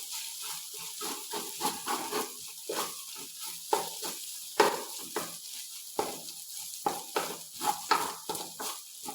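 Ground chicken frying in oil with carrot and beans, a steady close sizzle broken by frequent scraping stirs of a spatula against the pan, uneven and busy throughout.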